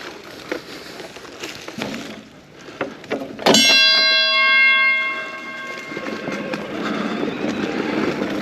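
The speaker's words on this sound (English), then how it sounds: "Gotta ring the bell before you go over this little bridge" Outdoors before a small bridge, a single bell strike rings out clearly and decays over about a second amid faint background clatter and rustling, with soft movement noises before and after.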